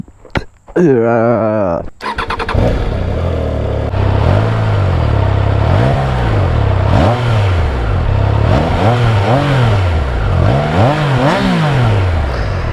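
A Triumph Tiger Sport 660 motorcycle engine starts up and runs steadily, its pitch rising and falling as it revs and rides close by.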